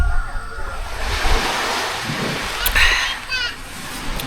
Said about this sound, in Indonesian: Di sini tuh ombaknya nggak terlalu kencang ya, tipis-tipis aja sih